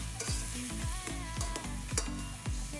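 Tomatoes with other vegetables softening in a pan, with a steady close sizzle and fry under repeated scraping stirs of a utensil against the pan, a ginataang tuyo dish with dried fish in progress.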